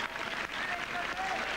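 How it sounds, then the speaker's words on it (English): Crowd applause at a televised tennis match, rewarding an ace that clinches a game for Hewitt, a steady moderate patter of clapping from the stands with a commentator speaking over it. "A little bit of applause there at the right time for Hewitt."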